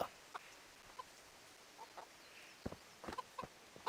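In the medieval game Kingdom Come: Deliverance, a chicken clucks softly with scattered short clucks and chirps over a quiet ambient background, with no talking.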